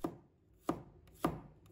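A knife slices garlic on a cutting board in three crisp, close taps spaced roughly half a second apart, quiet and alone with no talk.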